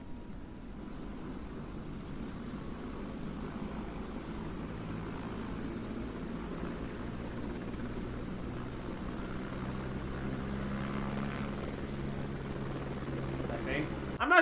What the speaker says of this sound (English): Make it to this helicopter, which, unlike the first helicopter, we can actually ride on this time